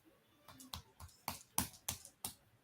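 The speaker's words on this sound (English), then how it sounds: "y'all should be continuing to clap your hands." Several separate hand claps in a language class game, about seven sharp, evenly spaced strikes at moderate distance, with quiet gaps between them and no talking.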